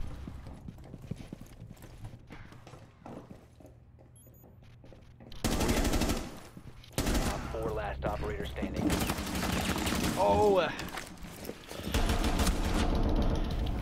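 Pistol shots in Rainbow Six Siege ring out in sharp bursts among other game noise and scattered loud bangs, with voices talking over parts of the action.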